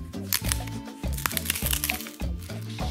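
A small paper packet from a collectible paper figurine set is torn open and crinkled, with repeated close, crisp rustles and crackles running over a low background tune.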